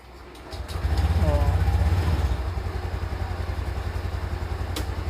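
A Honda Beat scooter engine, fitted with an anti-theft alarm, starts and idles steadily with a low putter close by, rising in level after the start and continuing to the end.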